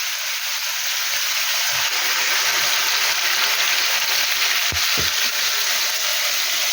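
Tomato puree hitting a hot frying pan for chicken Balti, a loud continuous hissing sizzle throughout with a couple of brief dull knocks near the end.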